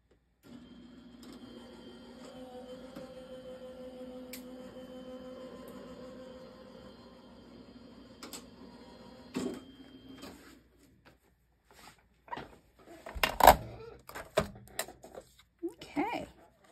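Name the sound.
die-cutting machine running a card through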